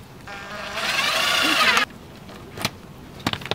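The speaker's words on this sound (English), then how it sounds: "And then putting the screw, the three inch screw" A three inch screw is driven into the wooden bottom frame of a chicken tractor, a rising whine of a power drill that runs for about a second and a half, then cuts off, followed by a few faint knocks.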